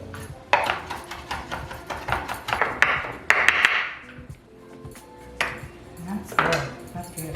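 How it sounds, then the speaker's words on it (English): A knife chops fresh garden parsley on a cutting board, giving a run of sharp, close taps and knocks with short pauses between bursts, while a few brighter clinks of utensils ring out over quiet kitchen noise. "we're gonna just cut up our fresh parsley that we got from the garden"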